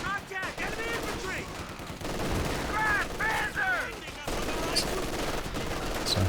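Rapid bursts of rifle and machine-gun fire trade back and forth in a Company of Heroes 2 battle between infantry and armor, dense and continuous, with faint in-game voice callouts mixed through.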